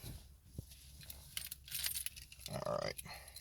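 Keys for a 2013 Scion FR-S jangle and clink close by in short metallic bursts.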